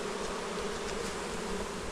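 Dense swarm of honey bees from a 12-pound package settling into a new HiveIQ beehive, a continuous loud, close buzzing drone with no pauses.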